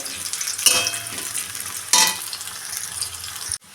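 Sliced onions frying into crispy beresta for a spicy desi chicken dish: a loud, close, continuous sizzle with two sharp bursts as they are stirred, then an abrupt stop.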